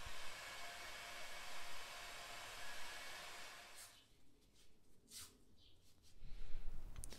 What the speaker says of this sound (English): we're going to shrink it down with the heat gun